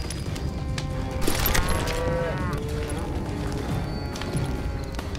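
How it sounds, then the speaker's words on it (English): Cows moo in the video game Call of Juarez: Gunslinger, several drawn-out lowing calls overlapping over a steady bed of in-game ambient noise. "Oh, cows."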